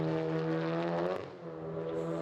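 Race car engine revving hard up to the limiter on an uphill section at Lime Rock Park, a loud harmonic howl that holds, then drops sharply and recovers, with no talk.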